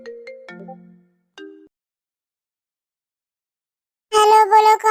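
A phone ringtone chimes in a bright, loud melodic burst near the end, after a short tonal electronic jingle and a stretch of silence.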